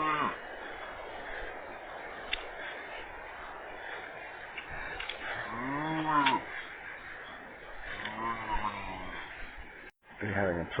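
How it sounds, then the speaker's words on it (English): Cows moo on a farm in Colombia, giving two drawn-out lowing calls at moderate distance. A steady murmur of background noise and talk runs beneath them. "We're having a problem with the cows."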